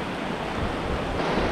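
A river swollen by the rainy season in the Philippines rushes in a steady, loud broadband roar with no pauses or voices.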